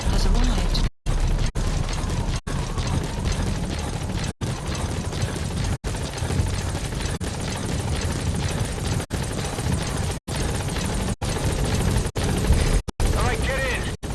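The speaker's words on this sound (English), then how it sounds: "Support helicopter has arrived." A support helicopter arrives at a landing zone in a video game: a constant heavy rotor roar holds throughout, cut by brief dropouts and punctuated by bursts and booms, with voices speaking over it.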